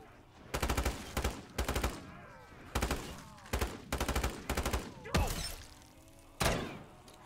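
Repeated gunfire in a survival shooter video game at round 17, loud bursts of rapid shots and single cracks spread across the clip, with short pauses between volleys.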